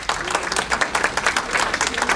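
Steady applause from an audience welcoming a guest speaker, a dense crowd of hands clapping close and continuously throughout with no talk over it.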